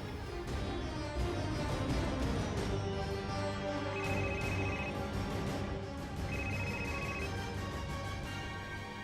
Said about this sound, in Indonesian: Saya harus telepon Sakti.